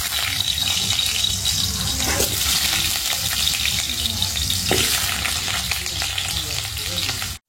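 Broiler chicken meat cooks in a pan with a loud, steady frying hiss and crackle, close and continuous, with a brief clatter near the end.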